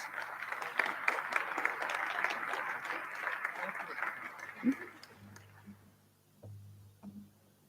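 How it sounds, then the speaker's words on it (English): Audience applause at the Prince Talal International Prize for Human Development award ceremony, honouring the UNITAR executive director: dense clapping for about five seconds, then fading, with a voice and low hum continuing beneath. "So a big applause."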